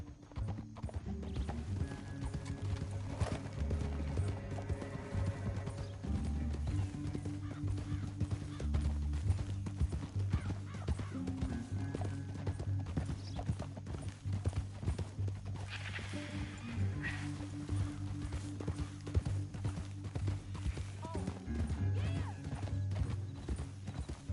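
Steady clip-clop of horse hooves in Red Dead Redemption 2 runs throughout, an even galloping rhythm over a low, continuous background, with no voices.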